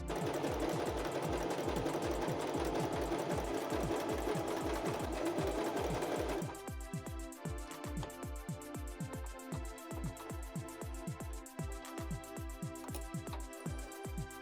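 A sewing machine runs steadily as it stitches a small fabric beanie made from a sock for a doll, a rapid rhythmic needle clatter that changes pitch and eases slightly partway through, close and alone.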